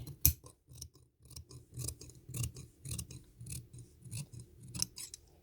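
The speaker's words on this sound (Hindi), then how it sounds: "अब इसकी मैं कटिंग करने लगी।" Scissors snip through fabric while a neck design is cut for a summer outfit, giving a steady run of close, crisp cuts at an even rhythm with no talking.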